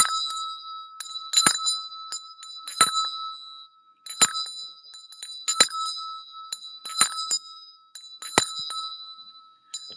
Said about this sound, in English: let me ring the bell 7 times for her